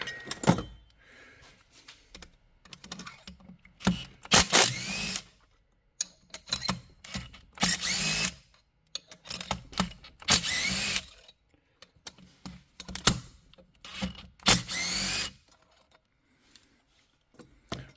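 A power tool loosens and removes bolts from a Stihl MS660 chainsaw in several short, loud whirring bursts separated by quiet pauses, with faint metallic clinks of parts and tools between the runs.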